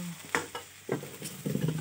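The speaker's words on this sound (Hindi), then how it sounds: "देखिए डांगबोडी आलू फ्राई कर रही है" Potatoes fry in a pan while being stirred, quiet sizzling broken by several distinct scrapes and knocks of the utensil against the pan.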